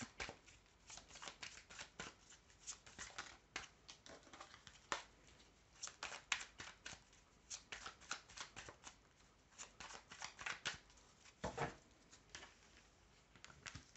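Tarot cards shuffled by hand at close range, a long run of soft papery riffles and flicks in an uneven, busy rhythm with brief pauses, fairly quiet and with no talking.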